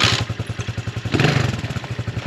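A motorcycle rides near the China-Kazakhstan border, its engine thumping in a steady loud pulse up close, with a brief gravelly rush of road and wind noise partway through.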